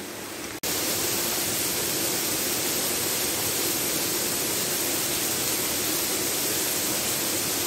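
A waterfall in Guadeloupe roars as a steady, dense rush of water. It sounds close and loud and carries on without a break after a brief cut near the start.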